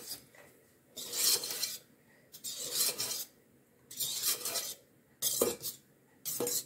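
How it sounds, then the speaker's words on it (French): A stand mixer's whisk worked by hand through tiramisu-style sponge batter, giving five rasping, scraping strokes in regular bursts against the bowl, close and fairly loud with quiet gaps between. "avec le même fouet du robot, je vais mélanger, je vais venir relever tout doucement comme ça"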